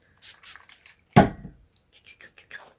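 One short, sharp spritz of plain water from a spray bottle onto Clun Forest wool fleece to tame static, set among quiet handling noises.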